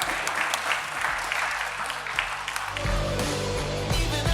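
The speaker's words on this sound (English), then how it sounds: "give him a round of applause, guys" Audience applause at a televised talent search callback round, a dense ongoing clapping that swells louder partway through and carries on to the end.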